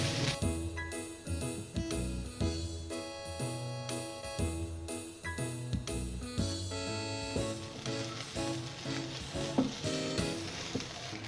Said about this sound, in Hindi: ऑयल के अंदर हल्का सा इसे भून लेते हैं ताकि जिंजर गार्लिक की खुशबू चिकन के अंदर ऐड हो जाए।